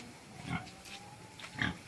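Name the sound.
big pig grunting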